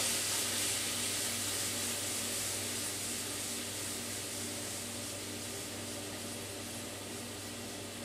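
Chopped onion and crushed garlic frying in a pan for an Ethiopian potato, carrot and cabbage stew, a steady soft hiss and sizzle that holds evenly and fairly faint throughout, with no talking.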